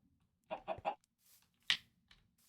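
Chickens cluck softly nearby in short bursts, a quick run of three clucks followed by a sharper single squawk and a few faint calls in an otherwise quiet farm setting.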